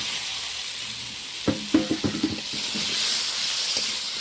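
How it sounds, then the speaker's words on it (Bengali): Fried taro pieces drop into a pan of sizzling, cooked-down spice paste, making a steady hiss and a quick series of clattering, stirring knocks against the pan. "এবার এই কষানো মশলার সাথে কচুগুলো যোগ করে দেব"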